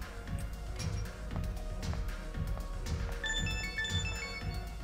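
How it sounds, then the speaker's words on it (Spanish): Mobile phone ringtone playing faintly in a quiet indoor scene, a short melodic sequence of bright tones entering late in the clip over a low background hum. "Tu teléfono está sonando."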